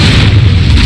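A short, loud whooshing boom of the Incendio fire spell in Hogwarts Legacy, a single dense burst of flame close up.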